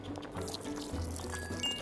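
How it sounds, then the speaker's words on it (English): A splash of honey poured in the VR cooking game Lost Recipes, a short soft liquid pour with faint clinks of glassware, close and brief, no voices. "A splash of honey."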